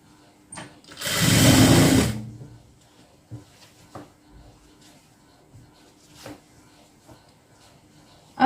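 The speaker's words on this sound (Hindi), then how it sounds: "इस तरीके से कोने कोने पर सिलाई लगाते हुए हमें ये इलास्टिक अटैच कर देना है इसके अंदर" A sewing machine stitches elastic into trouser fabric in one short, loud whirring run of about a second, followed by quieter clicks and handling sounds while a person talks.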